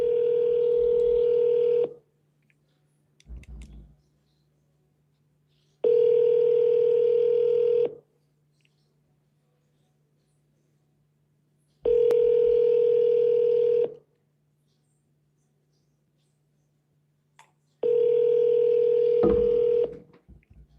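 Outgoing telephone call with ringback tones: four evenly spaced two-second rings separated by long silences, plus a short burst of dialing noise after the first ring, clear and close.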